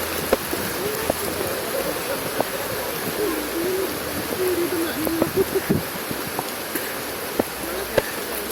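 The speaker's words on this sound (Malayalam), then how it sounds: "നല്ല മഴ" Heavy rain pours outdoors on a slippery path climbing toward a waterfall, a constant hiss of falling water with faint voices and brief tonal calls over it.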